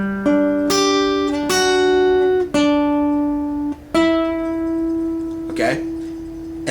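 Guitar phrase from a song, played as a few clear plucked notes that ring and sustain, with a hammer-on, close and alone without talk.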